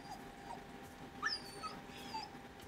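A dog in the Resident Evil 4 Remake game whimpers softly, with several high, thin whines and yips rising over a quiet background.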